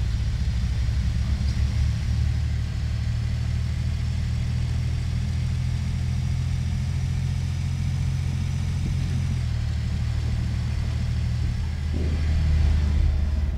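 A MAN Lion's City bus engine in The Bus video game, driving with a steady low drone and rumble throughout, a brief drop in tone partway, then a rise again near the end.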